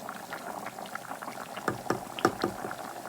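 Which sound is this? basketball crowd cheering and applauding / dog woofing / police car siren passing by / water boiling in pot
water boiling in pot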